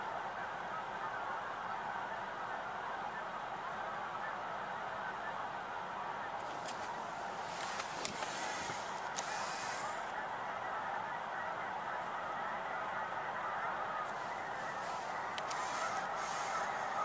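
Geese honking across a harvested, watered farm field, a dense steady chorus of many distant birds calling continuously, with louder bursts of nearby honks now and then.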